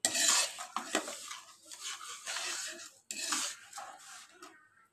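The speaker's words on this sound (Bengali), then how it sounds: "এটাকে ভালো করে নাড়বো" Semolina halwa being stirred in a pan with a metal spoon, giving repeated scraping and clinking strokes against the pan, close and uneven, with soft sizzling between strokes.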